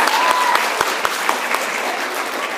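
Audience applause fills the hall at a sixth grade fall band concert, a loud, dense wash of clapping that holds steady throughout, with a few louder claps standing out near the front.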